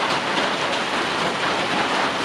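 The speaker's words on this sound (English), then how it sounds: "Rain's been kind of steady." Steady rain falls on a backpacking shelter, a dense continuous hiss and patter that holds at an even, close, fairly loud level with no voices.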